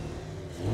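An Audi RS4 engine revs through its exhaust in a short burst, a steady mid-pitched drone that swells slightly at the end, with no voices over it.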